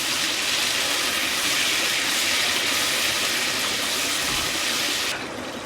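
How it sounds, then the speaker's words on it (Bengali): Water poured into a pan of Bengali rui fish kalia, a loud continuous gushing splash close by that holds steady for about five seconds before cutting off abruptly. "এর মধ্যে দিয়ে দেব অল্প পরিমাণের জল।"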